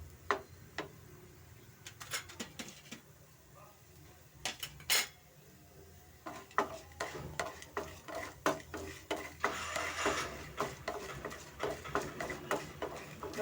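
Curry leaves frying in oil for curry leaves rice, with a spoon scraping and stirring a metal pan: repeated sharp clinks and scrapes over a soft, steady sizzle, close and fairly quiet.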